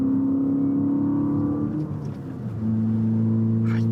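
A Toyota car engine accelerates in fourth gear, a loud, close, steady drone that dips briefly in the middle and then settles back to a sustained hum.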